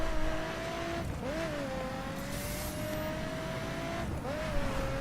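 Lotus Evora GTE race car from The Crew driving at a steady engine drone, pitch holding high then dipping and climbing again at two gear shifts, loud and continuous with a brief tire squeal.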